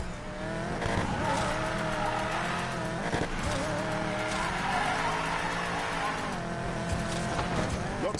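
Car drifting in Need for Speed Payback, engine roaring steadily with a continuous wavering tire squeal, loud and up close.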